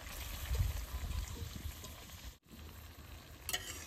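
Pieces of raw papaya sizzle quietly in a pan after a little water is added while making papaya murabba, a soft bubbling hiss with faint stirring scrapes and a brief clink near the end.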